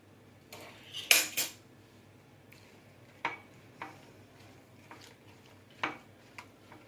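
Batter with baking powder and milk being mixed in a bowl, a handful of sharp spoon clinks and taps against the dish at irregular intervals, close and otherwise quiet, no talking.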